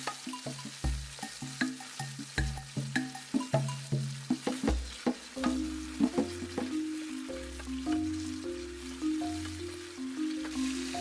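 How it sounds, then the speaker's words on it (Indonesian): Bat meat stir-fried with simple spices in a forest hut during heavy rain: steady sizzling under irregular clinks and scrapes of stirring, with a soft tonal background and no speech. "dagingnya ditumis bersama bumbu-bumbu sederhana"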